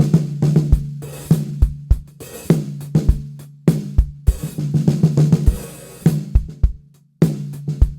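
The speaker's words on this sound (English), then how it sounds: "Tune it loosely, and it sounds like this." A snare drum with its top head tuned loose is played in a rhythmic pattern of close, punchy hits. Each strike has a low, slack ring that hangs between beats, with no talking.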